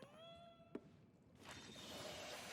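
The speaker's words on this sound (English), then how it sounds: "Is that a cat I heard?" A cat meows once inside the video game Ghostwire: Tokyo, a brief clear cry over quiet ambient game music, followed by a rising wash of game ambience.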